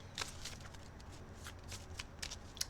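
Tarot cards being shuffled by hand before a card is drawn, a soft, quiet run of riffling and papery flicks with a few sharper snaps near the end, heard alone.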